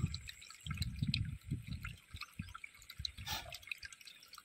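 Palm toddy poured from a clay pot outdoors on a farm, a quiet irregular trickle and splashing with soft drips, faint and close, with a bright spattering moment near the end.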